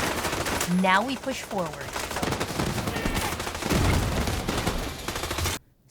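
Dense rapid automatic gunfire in a Division 2 control point firefight, loud and nearly continuous bursts filling the scene, with a voice speaking briefly over the shooting before it cuts off abruptly.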